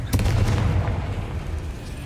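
Confringo spell explosion in the video game Hogwarts Legacy, a sharp loud blast followed by a deep booming rumble that lingers briefly.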